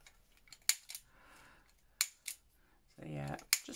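Scissors snip the corners off paper pieces for a junk journal, a few short crisp cuts spaced apart, close and fairly quiet, with a brief voiced sound near the end.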